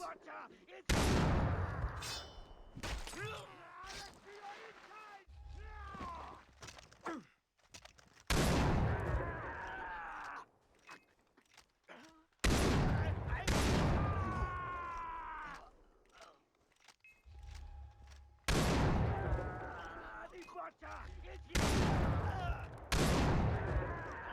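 Repeated loud shotgun blasts in the video game Far Cry 3, about seven booming shots spaced a few seconds apart, each with a rattling tail, mixed with game sound effects.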